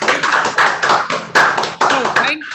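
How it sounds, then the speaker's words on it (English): Applause for Mark and Anna after a dessert-and-movie screening event, a small group clapping in uneven bursts that swell and drop, close by, with speech overlapping. "Let's give Mark and Anna a round of applause"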